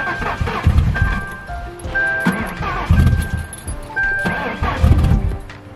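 A Ford 4.6L engine, fitted with new spark plugs, sputters and stumbles in uneven bursts about every second. The rough, choppy running is close and loud.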